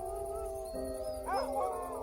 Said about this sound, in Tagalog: nanggulat kami nang marinig naming umaalulong ang aso nila